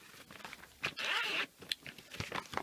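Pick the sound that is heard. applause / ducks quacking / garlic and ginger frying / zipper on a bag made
zipper on a bag made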